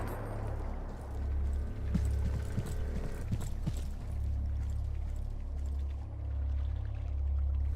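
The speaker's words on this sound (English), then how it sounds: "Water running." Ambient water runs steadily in a video game, a constant low wash that continues unbroken beneath faint scattered clinks and knocks, with no talk.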